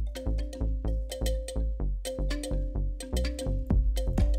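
Thumb piano plucks play together with an arpeggiated electronic bass line, a steady run of repeated pulsing bass notes under bright metallic tines, moderately loud with no voices.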